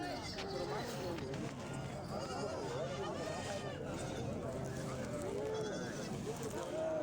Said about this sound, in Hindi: ये काली वाली बकरी चेक करते हैं